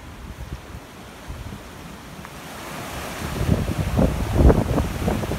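Steady wind rushes across an open hay field on a farm near a rising creek, a broad continuous roar that swells louder toward the end, buffeting the microphone with no voices.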